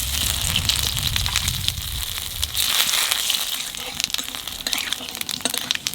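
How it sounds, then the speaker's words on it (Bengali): Cumin seeds and bay leaves sizzling in hot oil, a busy close crackle and spatter that flares at first and then settles into a lighter continuous fizz. "তেলের উপর দিয়ে দেবো কটা জিরে আর তেজপাতা।"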